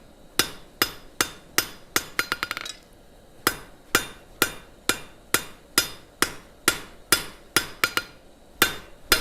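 Steady, ringing hammer blows strike a hot steel bar on an anvil as it is rolled into a penny scroll. About twenty sharp clangs sound in an even rhythm, with one quick flurry of lighter taps partway through.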